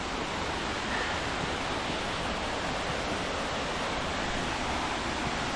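A winter waterfall on a snowy hiking trail roars steadily as a dense, unbroken rush of water, loud and close, with no voices over it.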